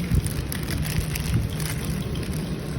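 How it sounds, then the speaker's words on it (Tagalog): Heavy rain pours steadily in Pozorrubio, Pangasinan, a dense, constant roar of drops drumming on surfaces close by, loud and unbroken throughout with no voices. "Sobrang lakas lang ng ulan kaya hindi kami makaalis."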